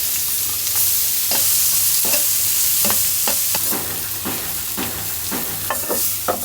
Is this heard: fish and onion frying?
yes